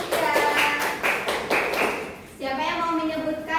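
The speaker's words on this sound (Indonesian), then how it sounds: "tepuk tangan untuk Rizkia" Rhythmic group clapping in a patterned beat in a classroom, fairly close, followed by children's voices chanting together.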